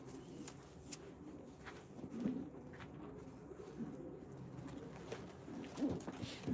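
Soft, low pigeon cooing repeats in short murmuring phrases over a quiet background, with a few faint rustles.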